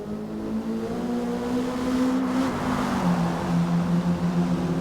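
Evenly matched race cars drive hard around a track, their engines droning loudly and steadily. The pitch rises and falls as they shift gears and push out of corners, and no voices are heard.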